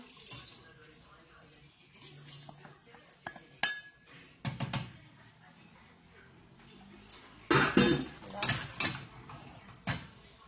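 A metal spoon clinks and scrapes in a pot of pork pepper soup with pumpkin seeds, in scattered quiet knocks that grow into louder bursts of clatter toward the end.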